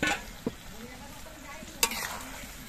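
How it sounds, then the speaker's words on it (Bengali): Snakehead fish pieces coated in salt and turmeric sizzle in hot frying spices, a steady hiss with two brief sharp clatters from stirring, close and fairly quiet. "এই মশলাগুলো কষানোর সময় আমি নুন হলুদ মাখানো মাছগুলো দিয়ে দিচ্ছি।"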